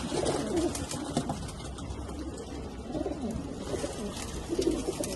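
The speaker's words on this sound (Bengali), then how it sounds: "এগুলি হচ্ছে ভাইয়ার খুব শখের কবুতর" Caged pigeons, females of fancy breeds, coo in low repeated throaty calls, fairly close, over a steady background hum.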